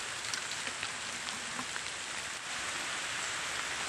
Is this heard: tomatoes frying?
no